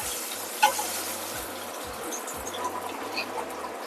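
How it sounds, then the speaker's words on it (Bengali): Drumsticks fry in a pan with a low, steady sizzle close by, broken by occasional clinks and scrapes of a utensil stirring the pieces. "এবার এই ডাগাটাকে ভালো করে একটু ফ্রাই করে নিই।"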